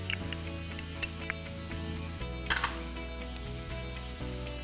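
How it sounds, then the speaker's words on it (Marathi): Finely chopped onion and capsicum frying in hot oil, a steady crackling sizzle with light stirring scrapes and occasional pops, close and continuous under a droning background hum. "त्यानंतर तेल थोडंसं तापून द्या। यात आपण अर्धा बारीक चिरलेला कांदा घालतोय।"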